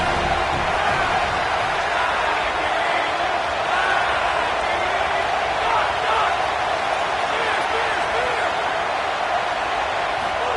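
Home crowd cheering in a college football video game, a steady dense roar across the whole stadium that holds at the same loud level throughout, with murmuring voices inside it.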